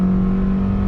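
A 2020 Hyundai Venue SE subcompact SUV with a CVT revs hard under acceleration, a loud, steady engine drone holding at high RPM close to the cabin for under a second, with no talk.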